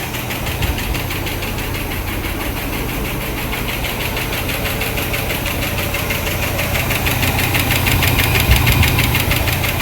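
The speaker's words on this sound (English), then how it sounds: "surprised to hear so much noise coming from the engine. That's definitely lifters though" The engine of a 1967 Lincoln runs at idle with loud, continuous lifter ticking, a fast even clatter over a low rumble that swells slightly toward the end, close up with no talking.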